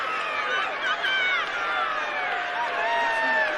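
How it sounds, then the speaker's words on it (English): Crowd noise from spectators at a boys' youth rugby match at the Pasifika Youth Cup, a steady wash of distant cheering and chatter with shrill voices, continuous throughout. "A lot of cheering coming from field 2."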